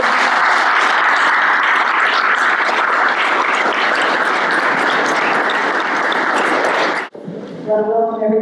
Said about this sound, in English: now we can offer a round of applause to the wonderful board